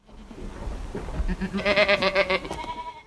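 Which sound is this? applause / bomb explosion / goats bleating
goats bleating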